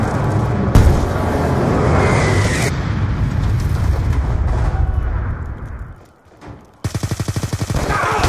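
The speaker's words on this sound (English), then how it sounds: "Friendly Hellstorm missile inbound" A Hellstorm missile strike in Black Ops 2 multiplayer on the Yemen Hardpoint map, a loud sustained roar of explosions and rumbling blasts that fades out, followed by a burst of rapid automatic gunfire.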